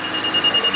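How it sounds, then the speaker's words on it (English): A rapid series of short, high-pitched electronic warning beeps from an engine cleaning machine repeats evenly over a steady background hum, fairly faint and close by. "when you hear that beep, beep, beep, beep, beep, it's time for you to race it up"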